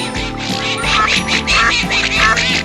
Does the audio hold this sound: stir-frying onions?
no